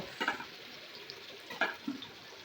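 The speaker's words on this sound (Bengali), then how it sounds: "দিয়ে মাংসটা, ম্যারিনেট করে রাখা মাংসটা আমি দিয়ে দেব। দিয়ে ভালো করে তেলের ওপর আগে ভেজে নেব।" Marinated chicken frying in hot oil in a wok, a soft steady sizzle underneath with a few brief louder crackles and spatters, fairly quiet and close with no talking.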